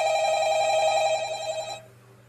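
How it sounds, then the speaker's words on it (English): A telephone rings in a horror-game setting, a steady electronic trill repeating loudly for nearly two seconds before cutting off and fading to quiet. "Oh, it's just a phone."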